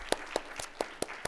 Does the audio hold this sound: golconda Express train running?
no